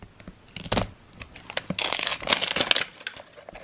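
A plastic packet of knockoff LOL doll accessories is torn open up close: a run of sharp crinkling rips and crackles in uneven bursts, with no talking.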